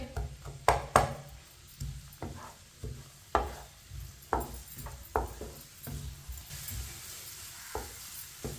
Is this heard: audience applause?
no